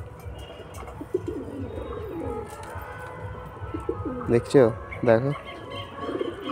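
Pigeons, some with clipped wing feathers, coo in repeated throaty bursts close by, growing louder toward the end, while a person talks in between.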